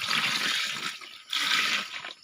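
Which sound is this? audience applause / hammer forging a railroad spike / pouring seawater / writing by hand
pouring seawater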